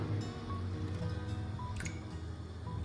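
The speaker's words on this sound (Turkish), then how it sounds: "Burada karıştırmayı hiç bırakmıyoruz ki topaklanma olmasın." A homemade baby pudding thickens in a pot as it is stirred without pause. It gives soft, wet squishing and faint dripping, close and steady, with no talk over it.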